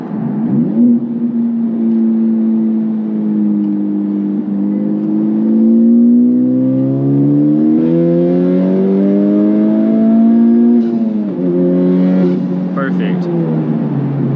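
Honda Civic Type R engine, reportedly with a major fault, pulling at wide open throttle: a loud, steadily rising rev through the gears with brief drops at each shift, heard from inside the car.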